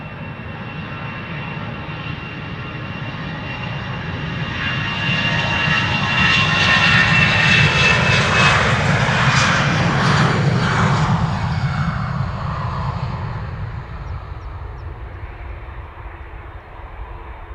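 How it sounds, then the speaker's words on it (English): An EasyJet Airbus A319 jet takes off from Amsterdam Schiphol Airport with a steady engine roar that swells to a loud peak as it passes close by, then fades gradually into the distance. "EasyJet to Birmingham, A319"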